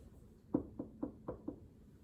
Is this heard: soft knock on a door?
yes